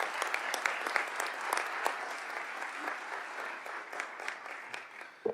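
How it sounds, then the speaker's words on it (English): Applause at a school board of education meeting, continuous moderate clapping from a room of people that thins out near the end, with a faint voice starting at the close. "So big round of applause for Kaylee Bruckner."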